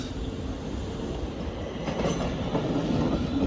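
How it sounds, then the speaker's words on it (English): A London North Western Railway Class 350 electric train passes close by at Primrose Hill, its steady roar of wheels and rail noise filling the whole stretch, swelling slightly toward the end with faint clickety-clack. "This is the 1446 London North Western Railway service to Crewe"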